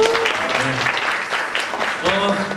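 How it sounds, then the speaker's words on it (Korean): Applause from an audience at a student performing-arts stage showcase, moderate and continuous for the whole stretch, with a voice talking over it. "박수 소리가 조금밖에 안 나오는 것 같습니다"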